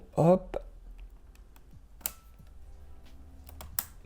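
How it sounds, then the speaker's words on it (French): The keyboard of a 2002 15-inch PowerBook G4 Titanium laptop is unclipped and lifted to reach the RAM, giving a few faint plastic clicks and taps under a man's short spoken interjection. "il faut juste soulever le clavier et vous accédez tout de suite au compartiment de la RAM"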